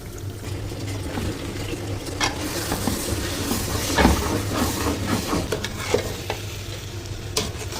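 Rice and eggs frying in a pan as a utensil stirs them carefully, a steady close sizzle broken by repeated scraping strokes and small clinks, with no talk.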